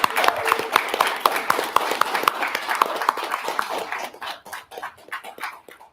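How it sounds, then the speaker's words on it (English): An audience applauds a debate moderator at the start of a gun control debate, a crisp run of claps that holds steady for about four seconds before thinning into scattered, fading claps. "A very well-deserved round of applause for Grayling there."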